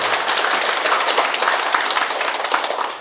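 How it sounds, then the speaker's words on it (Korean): A lecture audience breaks into loud, dense applause that holds steady, then begins to taper off at the end. "박수 한번 주세요"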